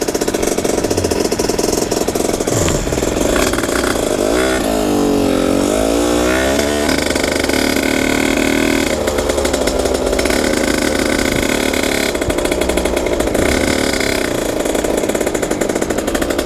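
Dirty motorcycle engine running loud and continuous, with a rough, buzzing throb that rises and falls as it revs, heard up close on the ride home from the garage.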